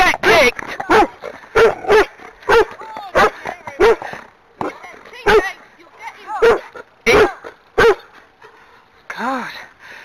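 A big loose dog on a trail barks in sharp, repeated bursts near a Friesian horse being ridden, close and loud, with some whimpering and a person talking between barks.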